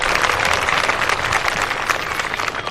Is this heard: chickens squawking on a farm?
no